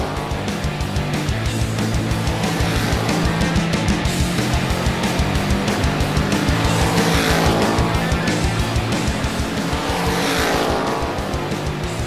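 Cartoon race car engines drone loudly and steadily in a kids' racing cartoon as a Bugatti overtakes, with rhythmic pulsing revs and occasional tire squeals, close and continuous with no talk.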